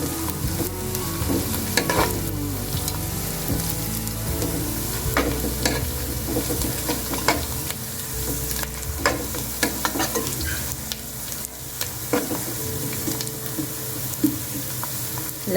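Garlic cloves and white cumin seeds frying in oil in a pan, a steady close sizzle and crackle with occasional scraping and stirring clicks throughout.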